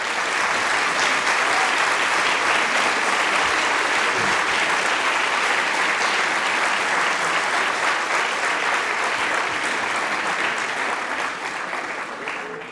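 An audience at a graduation ceremony applauds the graduating students, with dense, sustained clapping from a large crowd that fills the whole stretch and tapers slightly at the end.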